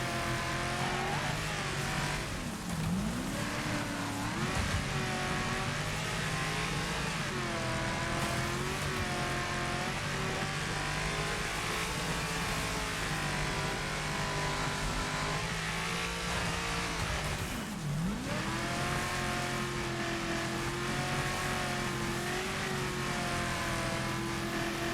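A race car engine roars continuously in the video game Wreckfest, revving up and down through gear shifts with a steady loud drone and occasional pitch drops, with no talking.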